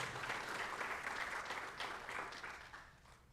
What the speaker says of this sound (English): let's give a round of applause for Kira